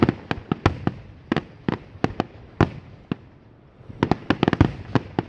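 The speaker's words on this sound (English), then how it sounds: "I don't think that big fireball was supposed to happen" A fireworks display goes wrong, with a rapid, irregular barrage of sharp cracking bangs, some loud and close and others fainter, that thickens into a dense burst of reports near the end.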